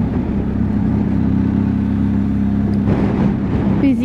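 A motorcycle engine rides over the Furka and Grimsel mountain passes in the Swiss Alps, passing through a small village at the top, with a steady, close, droning hum that holds even and shifts slightly near the end.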